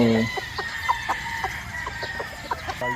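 Gilmore gamefowl breeder roosters crowing and clucking in a pen, with several short calls and clucks scattered across the moment, clear and fairly near, no talking.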